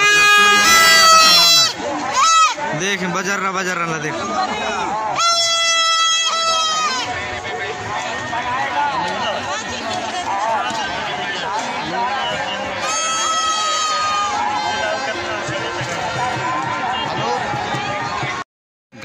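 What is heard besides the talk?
dense crowd at Damehdi Madai village fair market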